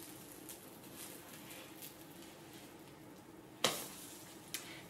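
Soft steady sizzling of pancake batter frying in a hot pan, close by, with a sharp clatter near the end and a fainter knock after.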